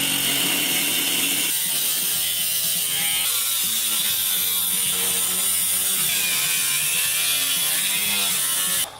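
A power tool grinds and shaves metal off a car body for tire clearance, a loud, steady, rasping whine with rattling texture that runs almost the whole time, then cuts off at the end.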